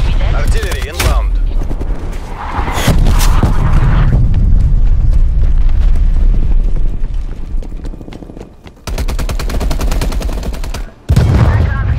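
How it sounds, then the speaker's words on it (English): Artillery strike in Call of Duty: Black Ops Cold War team deathmatch, with loud booming blasts and bursts of gunfire layered over continuous battle noise, some sharp impacts standing out near the end. "Airfall, incoming artillery. Artillery targeting detected."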